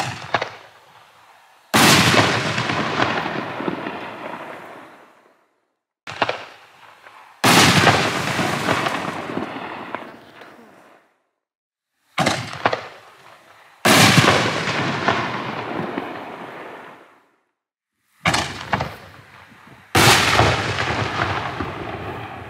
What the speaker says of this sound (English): Item number 13, Black Mamba, the 60-gram version, 4-inch from Fox Fireworks, packed 424s